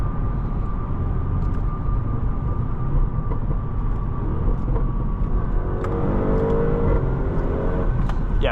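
A 2016 Audi RS 7 accelerating hard on the road, heard from inside as a loud, steady engine roar with rising whine tones toward the end and a dense low rumble throughout, with no talking.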